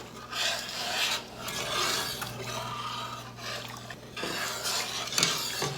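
Sugar being stirred into a grape jelly mixture in a pot, repeated gritty rasping scrapes of a spoon through granules in steady strokes, close and alone.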